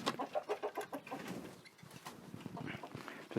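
Chickens cluck softly as they go to roost for the night on an off-grid farm in Portugal, a quick run of clucks that settles into low, close murmuring.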